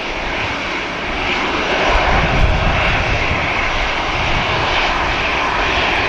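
EasyJet airliner on the runway at Manchester Airport, its engines producing a loud, continuous roar that swells slightly midway and stays strong, with no voices.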